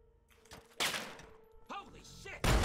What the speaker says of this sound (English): Somebody just shot me.